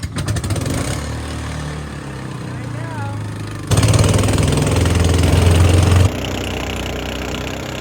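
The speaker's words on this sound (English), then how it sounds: "drown out the reverberating engine" An engine on a jungle expedition drones steadily throughout, rising louder in the middle before settling back to a steady hum, with a faint whistling tone at times.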